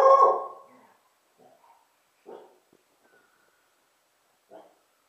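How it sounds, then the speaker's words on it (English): Young puppies give a loud bark, then a few faint yips and whimpers spaced out over several seconds, close by indoors. "you hear the puppies?"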